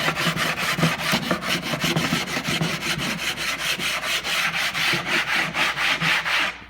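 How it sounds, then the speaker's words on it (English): A cabinet part during assembly is sanded by hand with quick, steady back-and-forth strokes on wood, a close, rhythmic scratchy rasp repeating evenly throughout. "Just sand that off."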